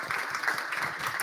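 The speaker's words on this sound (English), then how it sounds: "Please give a big round of applause to our panel this evening." Audience at an evening panel discussion on the housing crisis applauding, a dense, fairly soft wash of clapping from a crowd, sustained through the moment.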